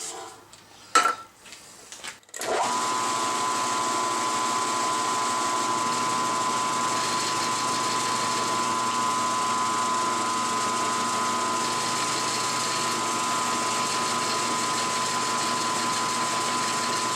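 A machine makes a climb cut on a brake part, a steady droning cutting tone running evenly and loudly after a few clinks of handling at the start.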